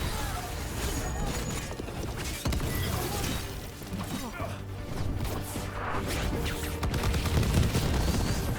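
Enemy gunfire in the video game Dragon Age: The Veilguard: a dense, continuous clatter of shots mixed with mechanical clanks and impacts, fairly loud and sustained throughout.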